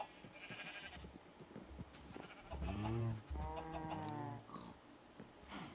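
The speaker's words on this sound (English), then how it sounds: "Even got a sheep farm here for my wool." Sheep bleating on a sheep farm in Minecraft, several wavering bleats overlapping in the middle, fairly close and clear over a steady game background.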